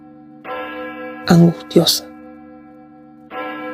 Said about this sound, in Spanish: Mas esta vez el reloj debía tener 12 campanadas